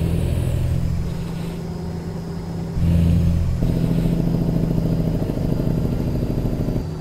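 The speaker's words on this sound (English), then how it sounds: "Let y'all hear the sound of that engine." A heavy diesel truck engine, a Cat C15 of 600 horsepower in American Truck Simulator, runs loudly and steadily up close, its deep rumble shifting to a harder, busier throb partway through, with no talking.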